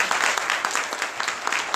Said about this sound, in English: I'd like you to join me in a very strong round of applause as we bring him to the stage